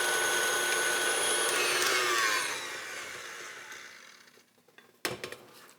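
An electric mixer whirs steadily as it beats batter, its motor loud at first, then fading and winding down, with a sharp knock near the end.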